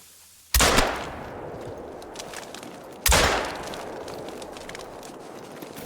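Two sharp rifle shots in theHunter: Call of the Wild, fired at a rabbit, each a loud crack with a reverberant tail, spaced about two and a half seconds apart, with no talk over them.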